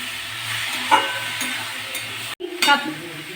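Crushed and minced garlic frying in a pan, a close sizzle with stirring and scraping, a sharp clack near the middle, then a brief break before the frying resumes.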